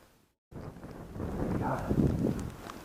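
After a brief silent gap, low blustery wind buffets the microphone while fishing, a steady rumbling roar that swells slightly and carries on.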